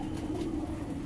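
Pigeons of many breeds in a loft give a brief, low, close coo over a soft, steady room hum.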